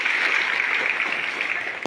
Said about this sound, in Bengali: আজকে যে কমান্ড দিয়েছে তার জন্য একটা করতালি।